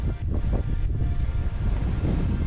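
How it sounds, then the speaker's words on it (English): Strong gusts of wind buffet the microphone in loud, rumbling bursts outdoors in Montana, continuous and close, with no other sounds standing out. "windy day here in Montana"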